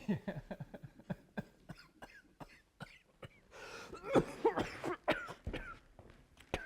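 A person coughs repeatedly in short, harsh bursts, with some throat clearing and a rougher fit of coughing midway, close and fairly loud.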